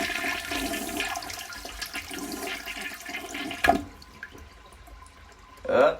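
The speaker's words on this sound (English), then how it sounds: "The toilet's having a hard time flushing, but it eventually flushed." A toilet flushes with difficulty, first a long broadband rush of water, then a sudden gurgle and a quieter trickle before a final short surge of flushing water at the end.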